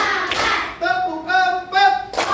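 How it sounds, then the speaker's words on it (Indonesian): A classroom of students claps in a counted pattern, bright hand-clap bursts at the start and end, with children's chanting voices carrying between them. "Tepuk 1. Tepuk 2. Tepuk 3."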